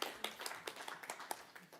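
Scattered applause rises from an audience at a climate finance discussion, faint and thin, with a few distinct claps spaced irregularly across the moment.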